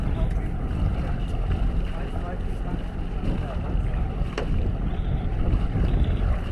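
A sailing boat enters Dun Laoghaire harbour in Ireland, with steady wind buffeting and rushing water around the hull, loud and continuous throughout.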